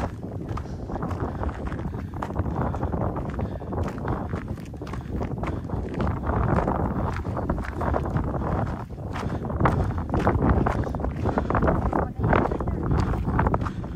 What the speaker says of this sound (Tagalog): Yung humuhuni yung hangin.